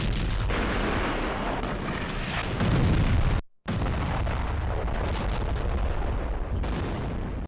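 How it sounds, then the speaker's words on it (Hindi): Rocket fire in an attack on a military vehicle near Jabalia camp in northern Gaza: loud, rough booms and crackling bursts follow one another, with a sudden brief cutout partway through. "अल कस्साम ब्रिगेड के लड़ाकों ने रॉकेट दागा है।"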